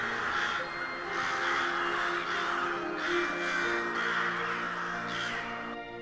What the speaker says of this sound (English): A whirling storm of beating wings and shrieking caws